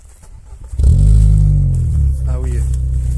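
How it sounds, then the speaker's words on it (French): A Peugeot 206 RC engine and aftermarket exhaust start up, firing into a loud, steady idle that holds close and dominant for the rest of the moment, with a voice speaking briefly over it. "J'ai trouvé que tu as fait un joli son avec ta ligne d'échappement."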